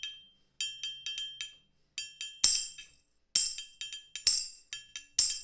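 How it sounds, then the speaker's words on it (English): Tambourine played in a lilting 6/8 groove, bright metallic jingle hits in quick clustered patterns with short gaps between phrases, close and crisp with no voices. "Now I'm going to add the tambourine, which kind of goes in and out."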